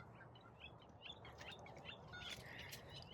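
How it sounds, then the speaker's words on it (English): A bird chirping as it flies overhead outdoors, a few faint high tweets scattered over soft steady background noise, with no talking. "A bird just flew over right then."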